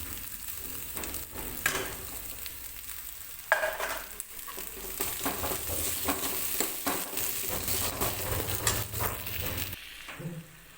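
Chopped garlic and ginger fry in a pan with a busy crackling sizzle, stirred with occasional scraping knocks before the sound drops off at the end.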